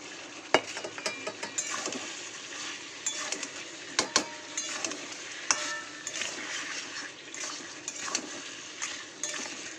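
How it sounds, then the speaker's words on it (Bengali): Fried pointed gourd being stirred with spices in a pan, with repeated sharp spatula scrapes and clinks over a soft continuous sizzle, close and fairly quiet. "দিয়ে দেবো ভেজে রাখা পটলগুলো, দিয়ে মশলাটার সাথে ভালো করে কষিয়ে নেব।"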